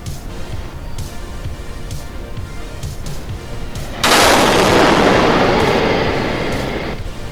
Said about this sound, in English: A roar of an explosion ripped through SpaceX's rocket testing facility in Boca Chica, Texas on Monday.